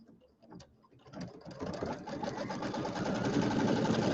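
An embroidery sewing machine starts up and settles into fast, steady mechanical stitching, whirring and ticking close by while it sews a stitching line on a Kimberbell penguin mug rug.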